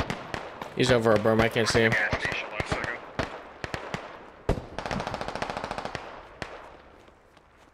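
Rapid bursts of gunfire crack and echo in a 100-player military simulation squad PvP game, a dense volley followed by scattered single shots near and far, with someone talking over the early shots.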